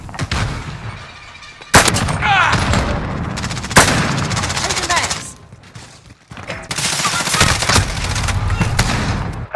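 A grenade blast in the Modern Warfare shooter, mixed with sharp gunfire cracks and heavy booms in a busy, loud firefight, with brief drops to quiet between bursts and a faint voice now and then.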